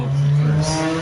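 A motorcycle engine revving nearby, a loud steady droning roar with a slight rise in pitch over about a second, heard alone without talk.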